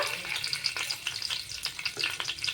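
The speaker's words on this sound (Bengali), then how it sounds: "তেলটাও প্রায় গরম হয়ে গেছে এবার দিয়ে দেবো তেজপাতা" Bay leaf crackling in hot oil in a wok, a steady close sizzle with scattered sharp pops and a brief stir of the pan, with no voices.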